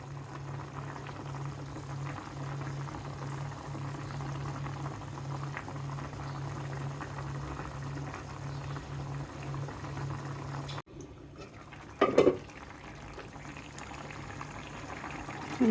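Tengra fish curry with potatoes and stalks simmers in a pot of water, a steady bubbling boil running unbroken for about eleven seconds before dropping away, followed by a couple of brief knocks.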